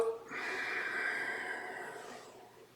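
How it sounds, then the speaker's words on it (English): A long, deep breath pushed out slowly during a yoga breathing exercise, a broad airy hiss that swells quickly and fades away over about two seconds, close and alone. "A deep breath in. Completely breathe out."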